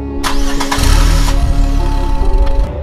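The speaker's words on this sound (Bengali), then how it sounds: "রথিন্দা অনেক চেষ্টা করেও গাড়ি স্টার্ট করতে পারল না" A car engine cranks repeatedly and fails to start, a loud, close whirring churn with a few bursts of effort across the stretch.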